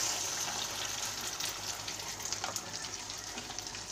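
Cornflour slurry is poured into a hot pan of veg manchurian, bringing a steady bubbling sizzle with soft liquid splashing and a brief stir, close and moderately quiet.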